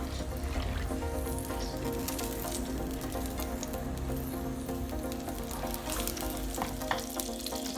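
Oil heats and sizzles in a clay pot, a steady close frying crackle with faint stirring scrapes and no talk throughout.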